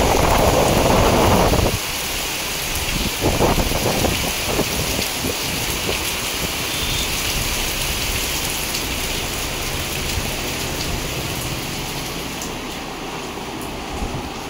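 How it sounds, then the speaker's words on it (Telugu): Steady rain falls outdoors as a dense, continuous hiss that stays even throughout, with a louder burst of nearby drops or gusty wind in the first two seconds and no talking. "ఇప్పుడు వర్షం కూడా స్టార్ట్ అయిపోయింది."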